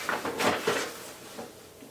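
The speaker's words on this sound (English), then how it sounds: "My cat is currently hanging out in a paper bag." Soft, crinkly rustling of a paper bag as a cat moves inside it, in short irregular bursts, fairly faint and close, with quiet pauses between the crackles.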